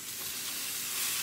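Hanger steak searing in a hot pan, a continuous bright sizzle and spitting hiss at close range, steady and loud with no talking.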